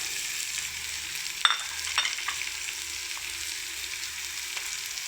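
Grated coconut and carrot being stir-fried for thoran, giving a steady soft sizzle with a few sharp spatula scrapes and taps near the start, then settling into an even hiss.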